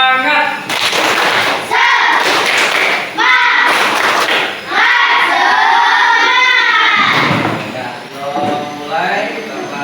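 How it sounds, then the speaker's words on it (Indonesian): A group of people in an Indonesian classroom training session do a rhythmic spirit clap, loud and close, with the claps mixed among energetic chanting voices that continue throughout. "Tepuk semangat."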